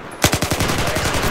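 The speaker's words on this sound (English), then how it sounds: "Twin miniguns plus your own gunfire." Rapid, sustained burst of heavy twin minigun fire from a Little Bird helicopter in Battlefield 4, kicking in suddenly after a brief quiet moment, loud and close with a fast rattling rhythm.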